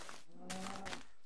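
Cow in a survival video game giving a short, low moo with a hoarse, breathy quality, fairly faint and heard alone.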